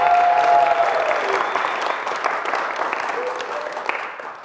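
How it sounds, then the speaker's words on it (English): Loud audience applause that slowly fades, with a few cheers and whistles mixed into the clapping. "Give it a huge round of applause for Tom Wilmot, everybody!"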